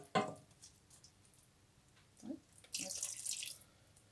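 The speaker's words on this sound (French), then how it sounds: "Je vais ajouter mon bouillon." Broth is poured into spinach cooking ngai ngai style, with a brief splash, a soft gurgle and a short hissing pour, faint and close.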